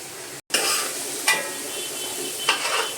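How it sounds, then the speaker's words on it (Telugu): Oil sizzles steadily in a pan while food fries for uggani until golden brown, with three distinct stirring scrapes cutting through the continuous hiss and a brief dropout near the start. "బాగా ఎర్రగా వేగాల మాదిరి అదే మామూలుగా గోల్డ్ బ్రౌన్ కలర్ వచ్చేదాకా"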